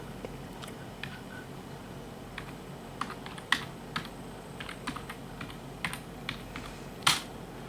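Keys clatter on a Bondi Blue iMac keyboard as a login password is typed: a sparse, irregular run of light taps with a few louder strikes, close up and alone.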